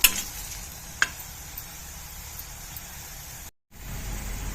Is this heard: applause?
no